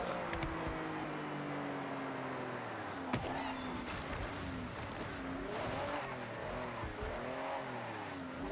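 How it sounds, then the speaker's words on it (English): A car in Forza Horizon 6 drives toward the Alpine region, its engine revving up and down steadily while exhaust pops and crackles break through, with one sharp pop standing out midway. No one speaks. "The pops and crackles on this car sound so good."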